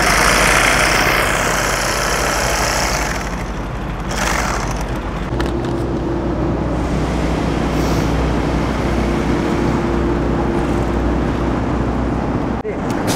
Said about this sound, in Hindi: अब हम इसको सिलाई कर रहे हैं। मारिए सिलाई।